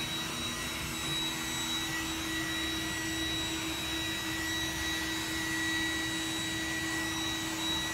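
An iRobot Roomba 980 robot vacuum cleans the floor with a steady, close, whooshing motor drone and a faint high whine. The sound holds even and unbroken throughout, with no talking.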